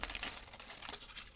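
Tarot cards being shuffled by hand, a brief soft papery riffling and crinkling close up, fairly quiet with no talking.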